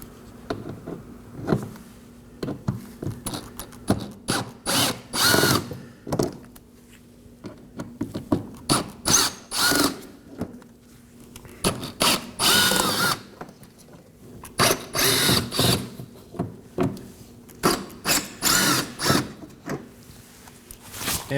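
Cordless power driver backing out T15 Torx screws from the wheel well of a 2018-2024 Chevrolet Equinox 1.5L, repeated short whirring bursts separated by brief pauses, close and clear with no talk.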